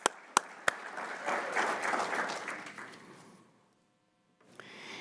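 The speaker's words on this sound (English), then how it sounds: "Let's give him a round of applause." At a university alumni association annual meeting, a few sharp opening claps swell into a round of audience applause that fades out after about three and a half seconds, leaving near silence before faint sound returns.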